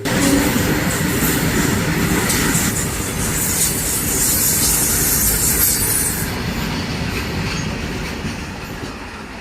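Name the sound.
electric locomotive hauling freight train passing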